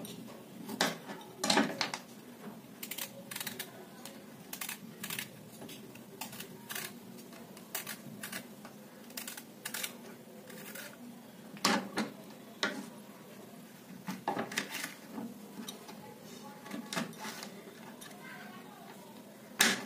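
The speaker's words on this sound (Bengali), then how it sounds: "এবারে একইভাবে পটলটাকে কেটে নেব।" A knife chops pointed gourd on a board in a home kitchen, making a run of sharp, close clicks and taps in an uneven rhythm, some in quick bursts and others spaced apart.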